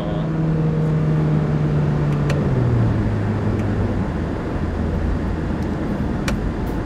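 A Honda BR-V with paddle shifters engine-brakes on a downshift while driving, heard from inside the cabin as a steady loud road rumble with engine tones that step down in pitch.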